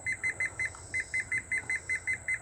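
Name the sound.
ThermoWorks Smoke thermometer beeping while alarm is set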